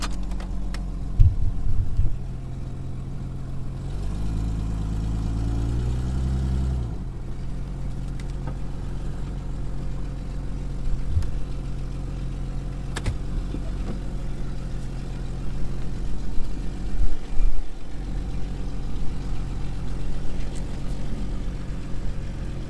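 A Jeep XJ engine idles steadily after starting, a constant low rumble with a brief throttle rise near the start and small fluctuations throughout, no voices over it.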